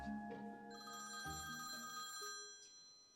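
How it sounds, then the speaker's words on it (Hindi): A telephone rings in a home: a melodic electronic ringtone with stacked tonal notes that shift pitch in short phrases, moderately loud and steady, with no talking. "देखिए, आ गया फोन आपकी बहू का"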